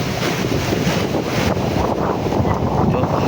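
Sea waves and strong wind on a fishing boat out for tuna, a constant loud roar of wind buffeting the microphone over rolling water, with low voices faintly underneath.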